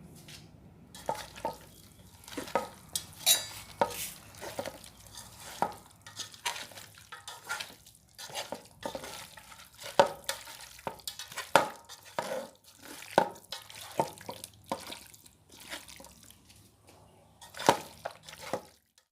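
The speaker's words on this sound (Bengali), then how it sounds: "মশলার সাথে মাংসটা খুব ভালোভাবে 3-4 মিনিট ধরে মাখিয়ে নিতে হবে" Wet, squelchy slaps and soft squishes as chicken meat is kneaded by hand with spices and mustard oil, irregular bursts at close range with quiet gaps between.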